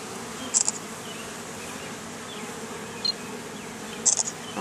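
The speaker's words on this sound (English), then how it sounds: "A lot more activity. A lot more bees on this side." Honeybees in an open hive during an inspection hum in a steady, low background drone, with a few brief, sharper buzzes as individual bees fly close past the microphone.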